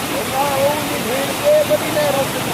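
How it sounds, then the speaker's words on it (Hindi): Flood water rushing in a continuous broadband roar, with someone speaking over the steady flow. "बहाव देखो पानी का"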